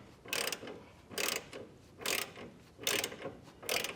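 A ratchet wrench tightens a fitting on a Firestone Ride-Rite air helper spring on a 2025 Chevrolet, giving five evenly spaced bursts of rapid clicking, close and fairly loud, with quiet gaps between.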